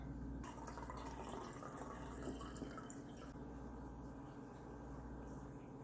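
Brine is poured out of jars of lacto-fermented home-grown habanero peppers, a faint, steady trickle and drip of liquid that runs without pause.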